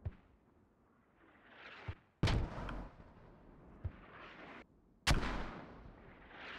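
Mortar rounds fired in a military video game: two loud, booming impacts a few seconds apart, each with a long rumbling tail, plus smaller distant thumps between them.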